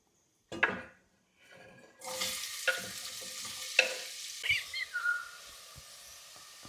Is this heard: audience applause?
no